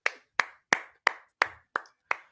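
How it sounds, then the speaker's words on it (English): Seven sharp, evenly spaced hand claps in a steady rhythm, loud and close with no talk, like a small group clapping along together. "Clap it in, everybody."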